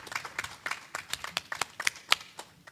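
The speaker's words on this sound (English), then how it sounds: "Let's welcome her with a round of applause." Scattered clapping from a forum audience at an anniversary event welcoming a panelist, a handful of distinct, fairly close hand claps in an uneven rhythm that gradually thins out.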